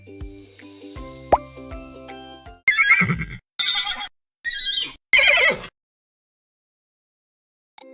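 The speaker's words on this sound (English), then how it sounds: "It's a zebra! Zebra sound name is whinny!" A zebra whinny, preceded by plopping and clip-clop sounds, rises into several loud, brassy braying bursts that end abruptly in silence.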